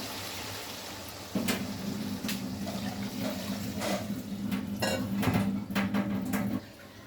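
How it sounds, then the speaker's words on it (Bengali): Water poured into a cooking pot of dal, a continuous splashing gush that starts abruptly, runs steadily near and moderately loud for about five seconds with a few clanks, then stops. "বন্ধুরা, এবার আমরা পরিমাণ মতো জল দিয়ে দিব।"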